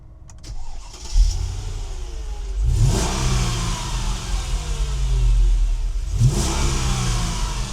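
A 24-year-old Mercedes ML55 AMG V8 cranks and fires, settling into a loud, deep idle, then is revved hard twice, with each throttle blip swelling and dying back.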